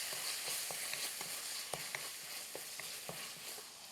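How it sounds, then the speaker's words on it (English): Strips of beef steak sizzle in a hot sticky sauce in a pan for beef and egg fried rice, a soft steady fizz broken by light stirring taps, fairly faint and without talk. "we've got a really nice sticky steak cooking there"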